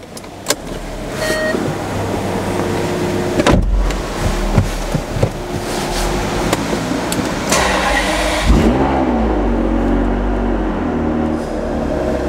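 A Ferrari 599 GTB fires up with a loud starter crank and catch, then a strong V12 idle with sharp revs rising and falling, heard close and continuous throughout.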